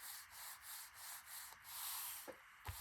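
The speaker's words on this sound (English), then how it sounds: "it's really just here and here that I need to give it its little rub down." Paper being rubbed down by hand over a glued envelope seam, a soft repeated swishing in short strokes, quiet and close, with a couple of small taps near the end.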